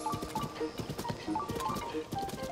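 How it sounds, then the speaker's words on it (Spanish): A giant horse gallops in Zelda: Tears of the Kingdom, its hoofbeats landing in a steady, close rhythmic clip-clop that keeps going through the whole stretch, with no voices over it. "Este caballo es Jesucristo, ¿no? Es que es un caballo gigante."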